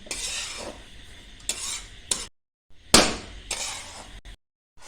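Semolina and desiccated coconut dry roasting in a pan for laddoos, heard as bursts of gritty scraping and rustling as a spoon pushes the grains around, broken by short silent gaps.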